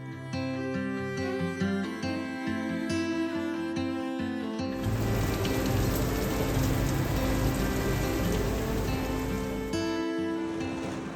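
Steady rain at Voyageurs National Park hisses across a surface, a dense wash of drops that swells in partway through after a brief stretch of music and holds loud to the end.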